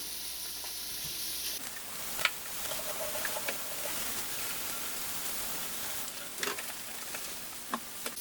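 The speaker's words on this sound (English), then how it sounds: "We're gonna let those simmer for 2-3 minutes." Vegetables and eggs sizzle in a pan during a quick healthy breakfast, a steady soft hiss of frying with faint pops and occasional clinks near the start, no talking.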